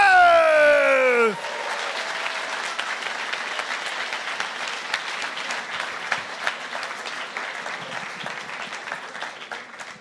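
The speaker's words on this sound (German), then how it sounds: "Aber ich will jetzt einen richtigen dicken Applaus hören" Crowd at a poetry slam final in Wolfsburg breaking into long, full applause for a finalist, following a brief falling tonal sweep, then a dense, steady roar of clapping that slowly eases off.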